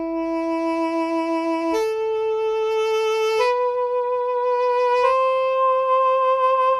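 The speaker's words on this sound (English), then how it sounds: "great sound when it comes to the soprano sax" A soprano saxophone from a free VST plugin plays four sustained notes in a slow stepwise line, each held steadily, clean and alone with no talk.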